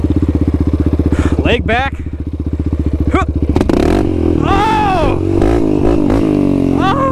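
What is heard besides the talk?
Raptor 700 ATV engine revving in first gear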